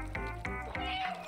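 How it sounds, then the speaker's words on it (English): Cat meows in the video game Stray, three or four short close meows in quick succession, clear and alone. "Meowing."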